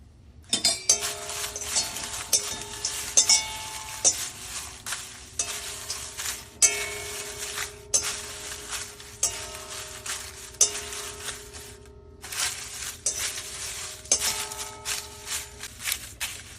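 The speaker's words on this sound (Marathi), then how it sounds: "मी हा तेजपत्ता पण आता थोडासा गरम करून घेते आहे." Bay leaf and whole spices dry-roasting with a few drops of oil in a pan for homemade garam masala, heard as repeated clinks and scrapes of a utensil against the pan with soft sizzling underneath, close and steady, no talking.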